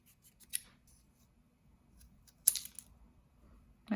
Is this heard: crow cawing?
no